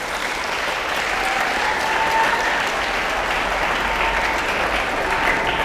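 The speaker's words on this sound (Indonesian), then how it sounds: "Tepuk tangan untuk kita semua hari ini." Sustained, dense applause from a large audience at an Islamic religious gathering, steady and loud throughout with no speech over it.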